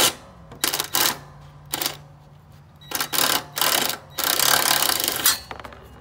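An impact wrench works on the bolts of a Craftsman T2400 lawn mower deck, firing short, loud rattling bursts separated by pauses, the last burst running longer.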